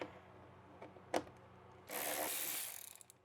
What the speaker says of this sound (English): I'm going to be taking out these 2 10mm bolts.